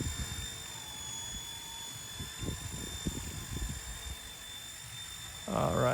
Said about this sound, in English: Hands free, then the helicopter is drifting away.